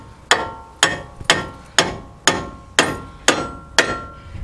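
Hammer blows beat on a car's tie rod end to knock it free of the steering knuckle, eight sharp metallic strikes at a steady half-second rhythm, loud and close with ringing decay between hits.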